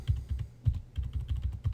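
Computer arrow keys tapped repeatedly while positioning a layer in Photoshop, producing a quick run of close, soft clicks in an uneven rhythm with no talk.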